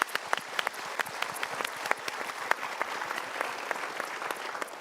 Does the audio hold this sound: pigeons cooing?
no